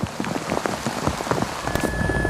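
Steady rain patters on a hard surface at the 2003 WRC Rally Finland, dense irregular drops close by, with no voices.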